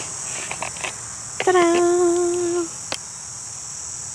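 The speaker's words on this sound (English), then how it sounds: "Lots of crickets." Crickets in Kings Park, Perth, make a steady high, unbroken trill across the whole stretch, while a person's voice breaks in briefly near the middle with a short sung exclamation.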